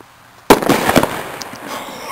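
A dry ice bomb bursts outdoors with one sudden, very loud bang that rings out and decays over the following second and a half, heard alone.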